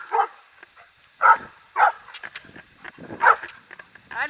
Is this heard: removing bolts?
no